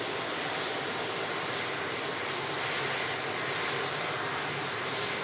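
Jet2 Boeing 757 airliner at Manchester Airport, runway 23L, landing after a hydraulic emergency: a steady, loud, broadband engine roar holds evenly throughout with no talk.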